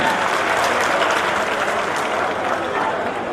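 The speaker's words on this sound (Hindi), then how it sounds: "तालियों के गड़गड़ाहट के साथ उनका स्वागत करेंगे।" Sustained, dense applause fills a ceremony hall as a guest is welcomed, loud and steady from start to finish with a crowd clapping together throughout.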